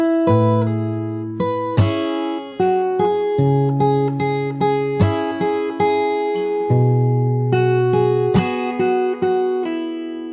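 Fingerstyle acoustic guitar plays a song at a slow pace, with plucked notes and low bass tones ringing together in a steady, unhurried rhythm, close and clear with no voices.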